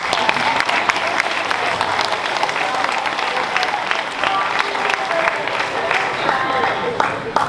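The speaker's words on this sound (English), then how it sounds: "Let's give him a quick round of applause" An audience at a whole-school assembly applauds a spelling bee winner with sustained, busy crowd clapping that stays loud and even throughout, scattered individual claps standing out.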